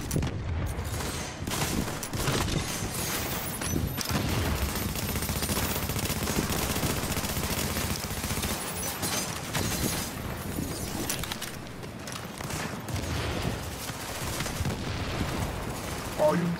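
Shotgun blasts and other weapons firing in the online game Tomato Team: Rogue Chronicles, dense continuous gunfire with heavy booms scattered throughout, while a player shouts and talks over the shooting.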